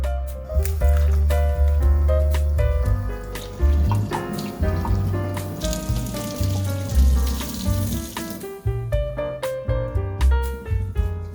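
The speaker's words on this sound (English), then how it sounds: "you could just run some cold water through the soil, which is what I'm going to do now" Cold tap water pours steadily through houseplant potting soil, a continuous splashing, gurgling flow close by, with faint tonal sounds underneath.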